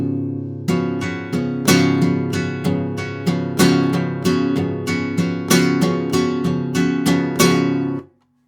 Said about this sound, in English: I'm just going down with the fingers and up with the thumb.